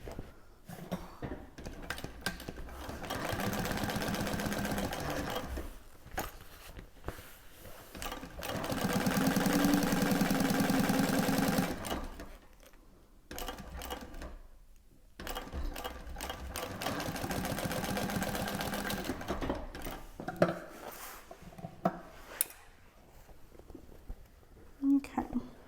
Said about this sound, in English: And I am going the max speed. Okay, and then we're going to top stitch.